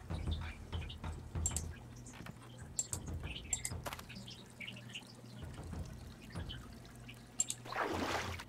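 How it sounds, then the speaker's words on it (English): Scattered water drips and a soft splash in the Shadow at the Water's Edge game, light and sparse, with a brief louder watery burst near the end over quiet ambience. "Splash."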